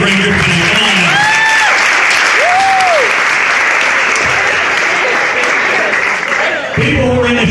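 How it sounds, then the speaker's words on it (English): Audience cheering and applauding the participants of a hypnotist show, loud dense clapping sustained for several seconds, with whoops and a voice rising over the crowd early on. "Give them all another tremendous round of applause."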